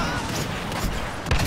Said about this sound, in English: The blaster cannon of doom, that's all I have to say.